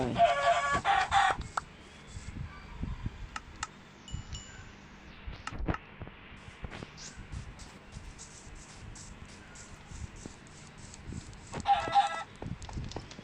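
Minecraft chickens clucking in game, a burst of bright clucks at the start and another near the end, with scattered clicks and soft game noise in between and no talk.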